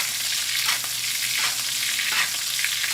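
A steak fries in a hot pan while being basted with foaming butter, giving a steady close sizzle with bursts of spattering as the butter is spooned over.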